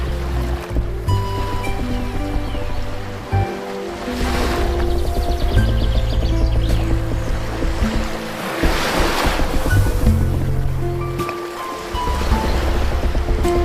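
Sea waves washing around a large wooden boat sailing back toward a coastal village, a continuous surging wash under a steady musical backing, swelling and easing in slow cycles.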